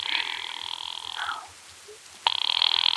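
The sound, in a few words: telephone ringing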